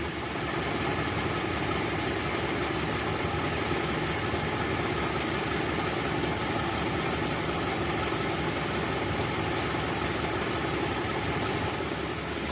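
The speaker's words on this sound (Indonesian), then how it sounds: "Jadi pada saat baru dihidupkan kita nggak boleh menginjak pedal gas secara penuh sih, kita biarkan aja dulu menyala." A Daihatsu Espass car engine idles steadily just after a cold start, a continuous, close, even mechanical hum with faint ticking, with no one speaking.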